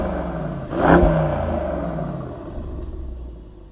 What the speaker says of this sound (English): It has the AMG performance exhaust, which has the valves in it. So according to your driving mode, you can make the exhaust louder or quieter